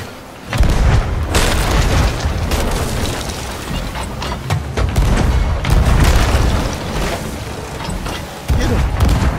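Cannon fire and explosions in a pirate-themed naval battle video game, a dense run of loud booming blasts and bursts that rolls on almost without pause, with brief excited voices mixed in.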